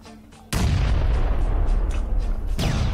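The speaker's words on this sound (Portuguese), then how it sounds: "Outra vez, mano, só estão a mandar granadas!" Grenade explosions in PUBG: a quiet lull broken by a sudden loud, close blast that rumbles and decays, followed by a second sharp blast near the end.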